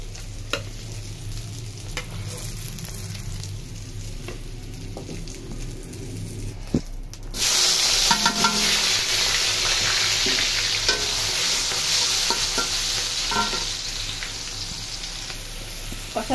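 Taro (kochu mukhi) curry frying and being stirred in a pan: a quiet, low background first, then a loud, steady sizzle with stirring scrapes that fills the second half.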